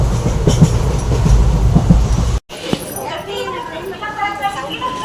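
A loud train rumbles with dense low-end noise as it comes to a stop, then cuts off abruptly; afterward a quieter interior hum continues with people talking over it.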